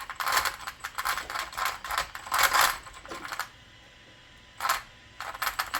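A cheap sensorless brushless motor and its ESC give bursts of rapid, crisp clicking. Close clustered ticks come in groups, with a short lull before a final few bursts.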